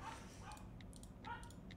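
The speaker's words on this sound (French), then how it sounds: "Je sais pas ce qu'il a mon chien aujourd'hui." A dog gives a few short yips and whimpers over a steady low background rumble, the cries fairly faint and spaced apart.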